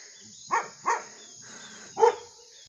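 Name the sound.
two dogs barking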